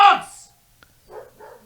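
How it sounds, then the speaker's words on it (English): Dogs bark: one sharp, loud bark up front, then a pause and two softer, quicker yaps afterward, with no clear talk over them. "Dogs."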